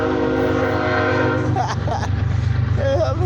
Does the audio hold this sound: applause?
no